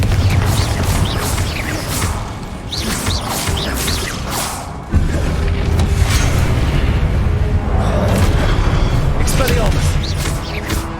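Spell-combat sounds from Hogwarts Legacy, a Confringo fire spell exploding amid a dense, continuous mix of blasts, whooshes and thuds, with a heavier burst near the middle; a voice is present in the game audio.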